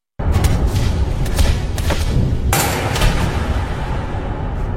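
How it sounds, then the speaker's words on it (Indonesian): Police gunfire in the heist film London Heist: a dense volley of loud, close shots and impacts, with several sharp cracks standing out over a continuous roar of firing. "tembakan dari polisi justru membunuh Sammy"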